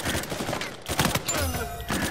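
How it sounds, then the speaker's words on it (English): Gunfire in the Uncharted 4 video game: rapid bursts of shots and loud cracks in a continuous dense fusillade, close and loud with no pauses. "Who's shooting at me?"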